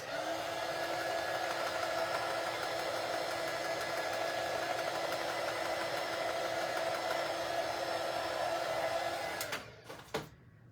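A hair dryer drying paint on a cutout: a steady, close whirring blow that runs evenly for about nine seconds, then cuts off with a couple of clicks and handling noises.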